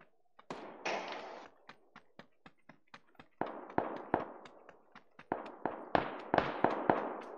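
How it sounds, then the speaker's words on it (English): Distant gunfire in PUBG: a sequence of sharp, crackling shots at an irregular rhythm, some single and some in quick clusters, fairly faint and far off with no talk over them. "they shooting far down there"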